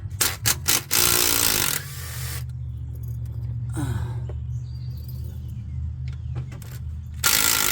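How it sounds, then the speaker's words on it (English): A hand ratchet loosens transmission pan bolts under a Toyota RAV4, giving several quick clicking bursts at the start and again at the end, with quieter handling noises and a low background hum in between. "now I can take the rest of these bolts out."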